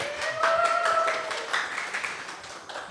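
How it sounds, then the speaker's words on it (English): Live audience clapping at a podcast recording during a documentary film festival, a short burst of applause that swells early and tapers off over about three seconds, with faint background chatter mixed in. "Give yourselves a round of applause."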